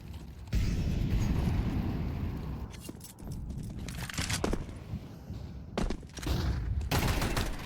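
Rapid bursts of gunfire crackle through a Counter-Strike match, sharp volleys arriving in clusters over a continuous background of game ambience and mechanical clatter.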